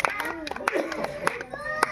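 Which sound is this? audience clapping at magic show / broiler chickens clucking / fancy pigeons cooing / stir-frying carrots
audience clapping at magic show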